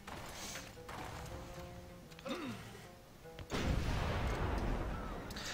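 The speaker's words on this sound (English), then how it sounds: "just bombard the city" A city bombardment in Civilization 5 gives a muffled explosive thump partway through, followed by a louder, sustained rumbling crash with a dense game soundtrack running underneath throughout.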